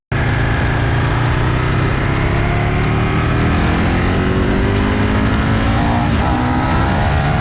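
An Aprilia RSV1000 Factory motorcycle engine runs loud and close, a continuous heavy drone whose pitch shifts slightly as the throttle changes, with no talking.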